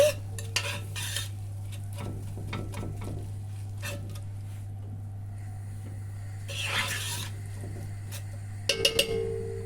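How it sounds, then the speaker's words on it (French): A spoon stirs sauce in a pan after brown sugar goes in, with soft scraping and light clinks over a steady low hum, ending in a few sharper metallic taps. "Maintenant, je vais ajouter 4 cuillères de cassonade brune. Voilà. Je vais mélanger."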